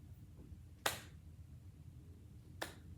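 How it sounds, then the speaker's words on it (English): Two isolated, quiet golf claps, sharp single hand claps spaced well apart against a faint low background hum. "Golf clap."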